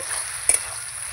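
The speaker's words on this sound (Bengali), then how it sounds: "মশলাটা আমি কষাতে থাকবো" Spice paste for a fish head and potato curry fries in oil with a faint, steady sizzle and one brief double scrape of a spoon midway, close and quiet.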